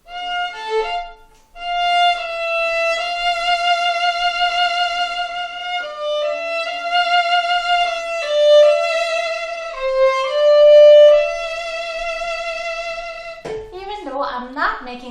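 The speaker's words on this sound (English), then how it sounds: "fast, wide and fast vibrato, sounds like this." Sustained bowed string notes carry a wide, fast vibrato, the pitch shaking rapidly and broadly over a short melodic line, played alone at strong volume, with a brief voice at the start and a few spoken words at the close.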